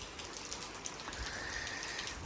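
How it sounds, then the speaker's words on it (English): Morning rain falls outside, a steady, fairly faint hiss of drizzle with scattered soft drop taps and no talking. "It's been raining all morning since 6 in the a.m."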